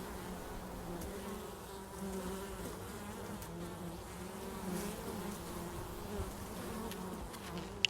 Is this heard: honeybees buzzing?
yes